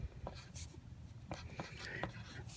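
Students writing with pens in a classroom, soft intermittent scratching and tapping strokes close by, faint and scattered over low room noise.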